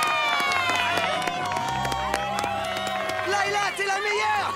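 Cheering and applause from a cartoon audience greeting a band at a school music concert, a loud, busy crowd wash with music tones and voices layered over it throughout.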